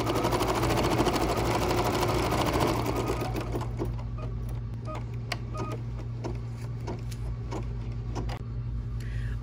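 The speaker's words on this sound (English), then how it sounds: "Now it's time to do the placement stitch for our red fabric." A sewing machine runs a continuous placement stitch on red fabric, loud and close with a steady mechanical whir and rapid needle clatter, slowing slightly partway through with a few sharper clicks.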